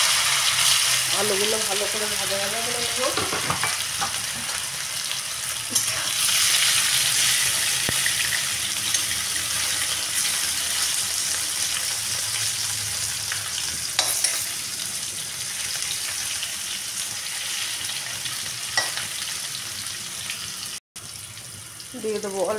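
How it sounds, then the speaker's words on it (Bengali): Potatoes frying in hot refined oil with whole cumin in a wok, a loud continuous sizzle with scraping stirs close up. "আলুগুলো ভালো করে ভাজা ভাজা করে নেব।"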